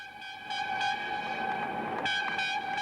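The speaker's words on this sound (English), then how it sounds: "the train carrying the two breakthrough tunnellers and the VIPs arrived at the British side" A train arriving on the British side of the Channel Tunnel, a steady whistle-like tone with a rumbling hum of rolling stock that swells louder partway through and stays close.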